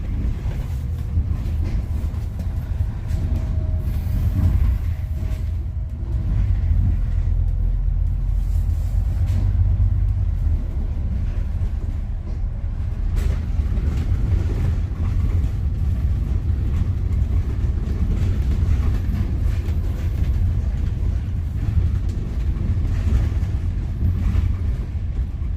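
A CTB Route 98 bus drives back down a hill, giving off a continuous low engine rumble and road noise. The sound stays steady and moderately loud, with no talking.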